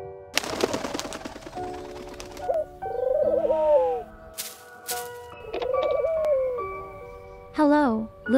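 A small pigeon or dove coos in a cartoon fairy-tale scene, with repeated warbling, gliding calls over steady background music and a few sharp effects.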